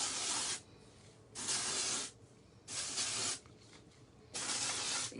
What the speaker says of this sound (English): This is the dry shampoo.